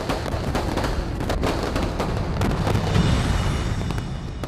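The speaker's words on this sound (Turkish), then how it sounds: "Kim fişek patlatıyor?" Sharp fireworks bangs and crackles go off indoors inside a house, a dense run of loud pops and booms filling several seconds with a continuous noisy rumble underneath.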